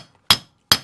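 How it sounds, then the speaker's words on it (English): Two crisp brass hammer taps on a bearing race being pressed into a Willys Jeep front hub, close up, spaced under half a second apart, each ringing briefly before silence. "I'm pretty much just letting the hammer do the work here, just dropping the weight of the hammer on it."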